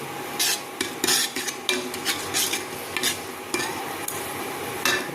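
Masala paste is stirred and fried in a pan, with a steady sizzle beneath repeated scraping strokes of a utensil that come close and fairly loud in an uneven rhythm.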